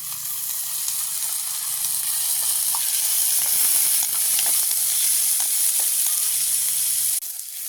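Onion, green chillies, fennel and fenugreek sizzling in a pan over a village cooking fire, a steady bright hiss with occasional stirring scrapes, close and continuous, no talk.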